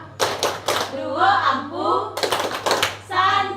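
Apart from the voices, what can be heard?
rhythmic hand clapping for a classroom clapping chant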